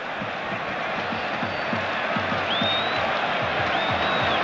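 A big stadium crowd at a 1986-87 Serie A match between Napoli and Atalanta roars as a steady wash of cheering, with whistles rising above it and repeated low thuds underneath.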